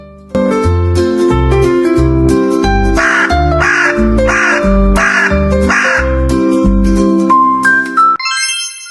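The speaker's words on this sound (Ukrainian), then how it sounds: "Ось ворона, дуже розумна пташка." A crow gives a loud, close series of about eight evenly spaced harsh caws with a steady rhythm, and the sequence ends in a short rising tone.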